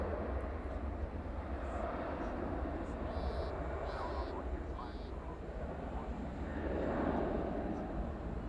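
A Boeing 737-800 jet at DFW Airport at night sends out a steady, broad engine roar from a distance, swelling slightly near the end, and a voice talks faintly underneath.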